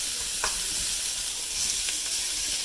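Onions reheat in a pan with a loud, steady, close sizzle and faint pops and crackles throughout.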